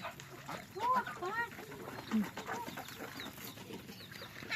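Chickens cluck on a Thai rice farm with ducks nearby, a close cluster of short calls and squawks over a low outdoor murmur, with faint voices in the background.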